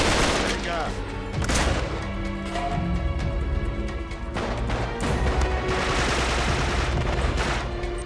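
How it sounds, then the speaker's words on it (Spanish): Gunfire in the video game Uncharted 3, loud bursts of shooting and crashing impacts repeating throughout with little pause, and voices talking over the fight. "qué de tiros hay"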